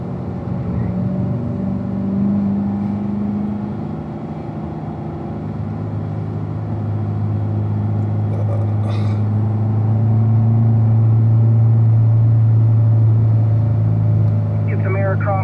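A 2017 Corvette Stingray C7 Z51 runs at Spring Mountain track, its engine droning steadily with a low rumbling hum that swells slightly as it continues, heard from inside with no clear speech.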